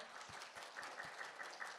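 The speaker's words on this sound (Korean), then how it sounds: "여러분 큰 박수 부탁드립니다" Audience applause opening a climate finance forum, steady clapping at a low, somewhat distant level, with no talk over it.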